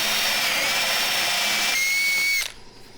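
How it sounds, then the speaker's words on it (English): A power drill bores a finger hole in a mahogany credenza door with a loud, steady high whine. The pitch dips briefly before the drill stops abruptly, leaving a faint room hush. "Now we're going to drill a hole."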